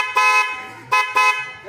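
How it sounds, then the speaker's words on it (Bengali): Newly fitted bus horn honking loud and close in a few short, bright blasts with brief pauses between them. "এই নতুন হর্ন লাগিয়েছে"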